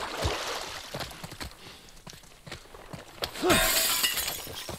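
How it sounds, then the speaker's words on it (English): Glass shatters in The Last of Us Part 1, a bright crashing burst late in the clip following scattered footsteps and small impacts during play. "I just broke glass."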